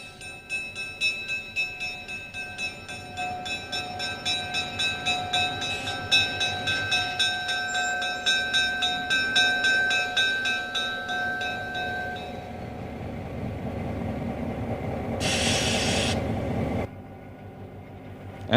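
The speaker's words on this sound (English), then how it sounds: "At about 11:07 a.m., eastbound train number 52 pulls into the station" Pennsylvania Railroad eastbound passenger train number 52, the Fort Pitt, pulling into a small station between Chicago and Pittsburgh: a steady clanging bell rings in a regular rhythm over low rumbling, then a brief louder burst of noise near the end.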